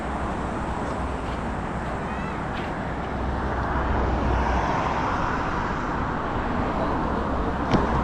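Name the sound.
airplane flying overhead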